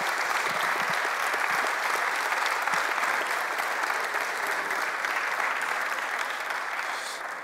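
An audience in a plenary chamber applauds young civic service volunteers, producing steady, dense clapping that fills the hall throughout without pause and fades slightly at the very end.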